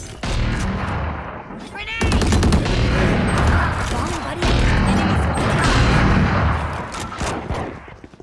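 Rapid bursts of gunfire from a shooting video game, dense and loud, with heavy overlapping shots and booms after a brief quieter opening, continuing almost without pause.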